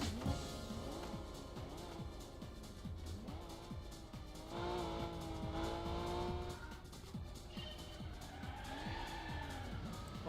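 A Toyota Gazoo Racing FTO with a front-mounted 2-liter V6 races in the Gran Turismo 2 video game, its engine note rising and falling through gear changes, with tire squeal and faint voices in the background.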